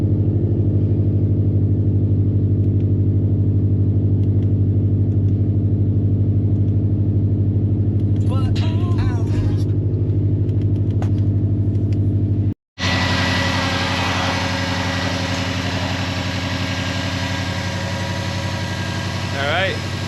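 A Subaru WRX STI fitted with a Cobb SF intake idles just after starting, a steady low rumble with a constant hum that holds throughout, broken by one brief cut partway through, with faint clatter and a voice in the background.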